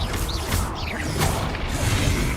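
The Confringo blast spell goes off in Hogwarts Legacy as a dense, loud fiery rumble with whooshing crackle, sustained close up for a couple of seconds.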